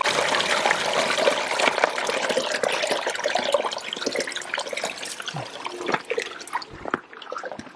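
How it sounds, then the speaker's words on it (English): Water pours steadily out of a pipe on a homestead, a continuous splashing gush that holds strong and then loosens into spattering near the end. "That's more water than I was expecting. That's just everything that was in the pipe."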